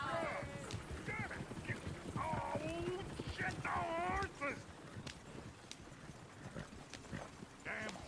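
Horse hooves clip-clop at a ranch in the Western video game Red Dead Redemption, with a horse whinnying briefly and people talking over the steady hoofbeats.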